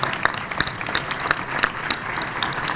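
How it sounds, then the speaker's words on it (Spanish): An audience applauds the parents at an athletes' flag-bearing ceremony, giving a dense, continuous patter of many hands at moderate distance over a steady crowd murmur. "darles un aplauso a nuestros padres de familia que hoy nos acompañan"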